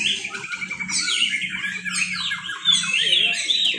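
A white-rumped shama sings loudly and continuously at a bird contest, dense rapid warbling and whistled phrases over a steady low crowd murmur and background voices.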